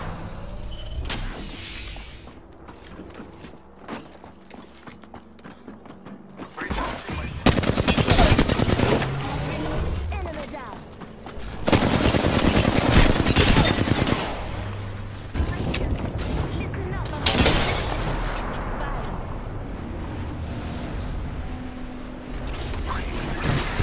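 Automatic weapon fire in a video game, bursts of rapid gunshots coming in loud waves between quieter stretches, with a player talking over the action.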